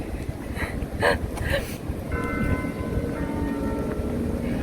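A campus bell rings at the end of a class period at a US state university, several bright tones arriving from a distance through wind noise and outdoor ambience.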